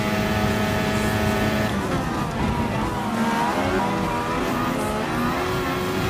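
An F1 car in Gran Turismo Sport, part of a Mercedes AMG Grand Prix event, screams at full throttle with a loud, continuous high-pitched engine whine whose pitch rises and falls with the gears.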